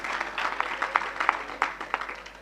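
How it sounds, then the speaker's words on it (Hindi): An audience at a Hindi comedy poetry gathering claps in scattered, uneven bursts, a light patter of separate hand claps at moderate distance rather than a full roar. "मजा आया तो ताली बजाओ।"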